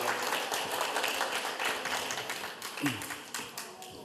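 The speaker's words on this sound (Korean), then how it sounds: "큰 박수 한 번 더 부탁드립니다" Audience applause at a regional forum event in Korea, crowd clapping at moderate distance that gradually thins and softens, with a brief voice near the end.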